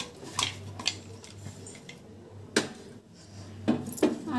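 Fish pieces are mixed with chili powder, turmeric and salt in a metal dish, giving scattered sharp clinks and scrapes of utensil against the vessel, some in quick pairs, with quiet gaps between.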